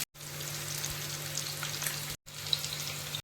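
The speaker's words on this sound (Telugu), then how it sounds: "ఇలా మనం కడాయిలో పెట్టుకొని లో ఫ్లేమ్లో చాలా లైట్గా ఈ విధంగా ఫిష్ అనేది వేపుకోవాలి." Fish pieces frying lightly in a kadai over a low flame for an Andhra-style mango fish curry, giving a steady, quiet hiss of sizzling oil with one brief break partway through.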